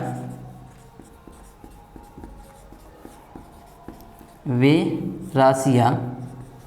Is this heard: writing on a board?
yes